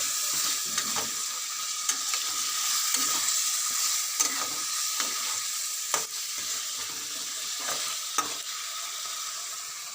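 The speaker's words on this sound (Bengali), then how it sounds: "মশলার সঙ্গে আলুটাকেও দিয়ে দিচ্ছি, সুন্দর কষা হচ্ছে।" Potatoes fry with spices in a home kitchen pan, a continuous bright sizzle punctuated by sharp clicks and scrapes of stirring every second or two, close and without speech.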